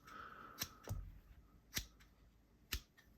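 Raptor rescue shears snipping through material, giving a few sharp, separate metallic cuts spaced irregularly across a quiet background.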